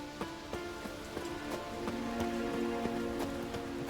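Rain in The Witcher 3: Wild Hunt, a soft continuous patter of drops on surfaces with scattered sharper drips and a faint low tonal drone underneath, fairly quiet and steady.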